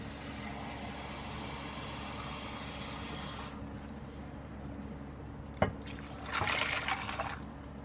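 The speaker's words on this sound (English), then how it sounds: "And I'll add about a cup and a half of water." Water runs steadily into a cooking pot for several seconds, then stops; after a brief clunk, a shorter splashy pour follows.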